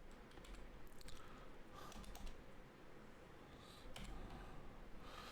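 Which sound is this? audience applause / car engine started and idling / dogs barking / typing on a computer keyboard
typing on a computer keyboard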